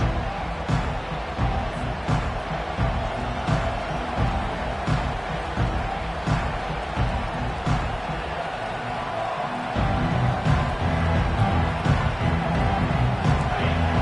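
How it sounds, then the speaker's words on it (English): A college football stadium crowd at Notre Dame versus Alabama roars steadily, a dense far-off wash of cheering that swells louder near the end, with a commentator talking over it. "They challenge this crowd to bring the energy, and I'd say they're doing that."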